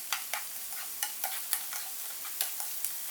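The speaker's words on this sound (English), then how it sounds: "we'll fry until the onion color changes to golden brown" Chopped onion and chilies fry in hot oil, with a quiet, even sizzle. Light, regular spatula strokes tap and scrape about every half second, close to the microphone.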